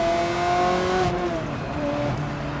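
A Ferrari 360 with factory exhaust and a gated manual gearbox, driven on the road. The engine drones steadily with light valve tick, and the pitch drops midway as a gear change cuts in. No voices.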